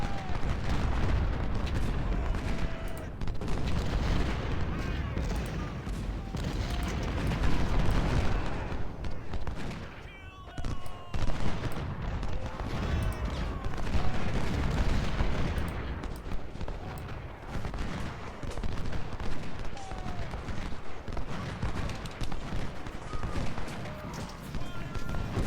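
Battlefield din in Ultimate General Civil War, with Napoleon cannon artillery booming and musket volleys crackling continuously at mid distance over the noise of marching troops, steady throughout.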